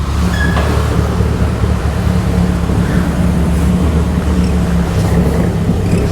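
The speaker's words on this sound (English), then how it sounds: "This is a newly rebuilt 948 engine with 819 miles on it." A 1958 Bugeye Sprite with a newly rebuilt 948 engine idles nearby, a steady low rumbling drone that holds even and unbroken throughout, with no talking.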